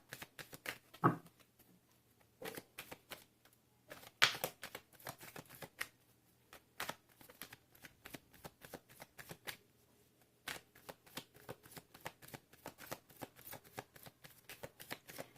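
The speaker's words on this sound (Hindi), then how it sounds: "जब तक मैं कार्ड शफल कर रही हूँ" Tarot cards being shuffled by hand, a long run of quick soft riffles and taps in irregular bursts with short gaps, close but quiet, no speech.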